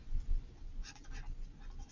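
A pen or pencil writing on a blank page, soft scratchy strokes in short bursts, close and fairly quiet, with no talking.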